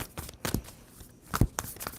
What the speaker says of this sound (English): 2 more shuffles for Leo.